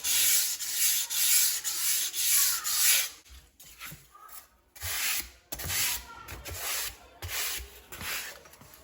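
Fine 800-grit sandpaper rubbed over a foam glider, a run of soft, hissy scraping strokes in bursts with short pauses between, close and fairly quiet.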